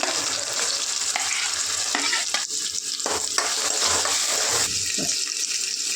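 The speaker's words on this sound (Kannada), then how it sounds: "ನೆಕ್ಸ್ಟ್ ನಾನು ಟೊಮೊಟೊನ ಆ್ಯಡ್ ಮಾಡ್ತಿದ್ದೀನಿ." Tomatoes added to a hot pan and frying for a drumstick gravy, giving a steady close sizzle with scraping stirs and a brief watery splash near the end, no voices.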